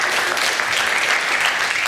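An audience claps steadily throughout, a dense wash of applause from a crowd at a business talk on brand building, sustained and fairly loud with no gaps.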